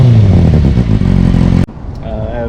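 Kawasaki Ninja sport motorcycle fitted with a slip-on exhaust, a loud, steady engine drone that cuts off abruptly, followed by a quieter idle with faint rising whine.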